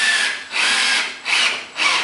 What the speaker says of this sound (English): So I just put it on the drill setting and I inch up to it